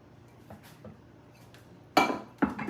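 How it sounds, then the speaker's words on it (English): Sugar, cornstarch and cinnamon are stirred into peaches in a cast iron pan for a cobbler, giving soft scrapes and then two louder close clinks of a utensil against the iron, with no talking. "Stir that in, and I want this to cook for 4 or 5 minutes to get that to thicken up just a little bit."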